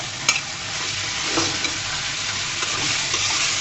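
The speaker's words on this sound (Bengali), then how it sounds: "দিয়ে আবারও ভালো মতো নাড়াচাড়া করে দিচ্ছি" Soft, mushy potatoes and green chilies stirred in a sizzling frying pan, a close, continuous frying hiss with scraping stirring strokes throughout.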